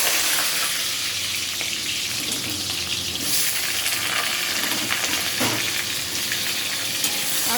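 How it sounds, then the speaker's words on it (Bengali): Potatoes frying in hot oil for khichuri, a loud, continuous hiss and crackle close by with a few brief bursts of spatter, no voices. "দেখো তেল গরম হয়ে গেছে এখন আমি আলুগুলা ভেজে নেবো"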